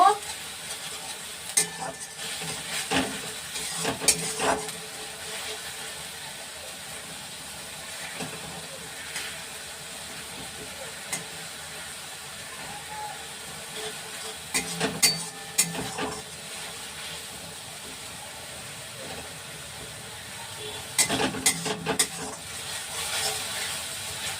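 Chicken for chicken korma sautéing in a pan after onion and garlic, a steady low sizzle with intermittent stirring scrapes and clatters, faint speech now and then.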